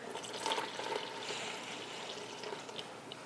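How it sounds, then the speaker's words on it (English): Warm water pours into sourdough bun dough in a quiet, steady splashing stream with a few small drips and clinks along the way. "I'm adding in my water."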